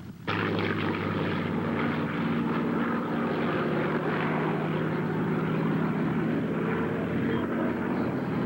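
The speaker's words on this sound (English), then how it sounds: "the P-51 Mustang showed why it is revered by so many veterans" A P-51 Mustang warbird flying at an airshow gives a loud, sustained propeller-engine drone that holds steady and close for the whole stretch.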